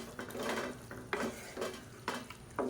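Okra frying in a pan with chili powder, turmeric and salt is stirred with a utensil in several distinct scraping strokes, each a short close clatter over a soft background sizzle, with no talking.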